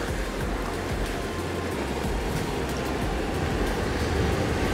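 Ocean waves break on a rocky shore in a constant, loud, close rush of surf and churning water, steady throughout with no voices.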